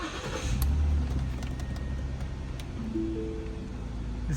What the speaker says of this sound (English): Can I start the car?